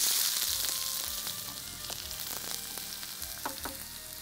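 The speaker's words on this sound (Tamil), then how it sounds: "கடுகு நல்லா கடுகு பொரியட்டும் படப்படன்னு" Mustard seeds spluttering and crackling in hot oil, a busy hiss with scattered sharp pops and a few louder crackles near the end, close and without voices.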